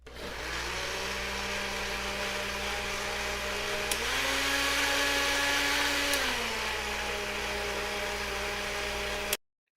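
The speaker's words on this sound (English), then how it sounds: "I'm gonna blend these couple OG Grim Monsters into a blender with a couple of Starbucks double shot coffees and a Mountain Dew Cold Red" A blender whirs loudly and steadily, mixing Monster energy drinks, Starbucks double shot coffees and Mountain Dew Code Red, with its motor pitch rising midway before it cuts off abruptly at the end.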